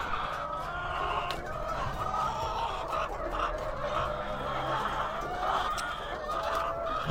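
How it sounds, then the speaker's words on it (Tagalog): Egg-laying hens cluck and murmur steadily in a busy coop, a constant low chorus with occasional sharper calls, no talking. "dito na tayo sa malalaki na mga manok yung mga nangingitlog"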